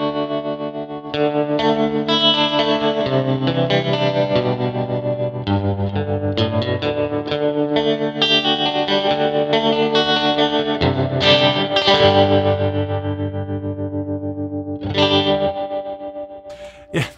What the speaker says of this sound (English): add a ton of reverb and that effect and get a very big kind of washy sound